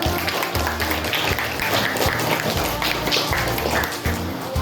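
An audience claps at an elementary school's Ramadan religious program, a dense patter of applause running the whole time over a low murmur of voices or background sound.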